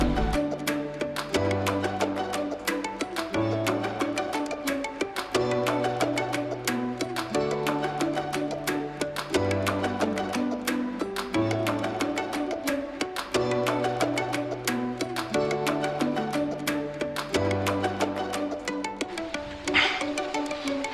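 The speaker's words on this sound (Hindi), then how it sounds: "This is some butterfly waterfall on the way to लाचोंग।" Continuous steady music plays throughout, with a sustained dense wash that may include the rush of the Butterfly Waterfall on the road to Lachung in North Sikkim, blended underneath.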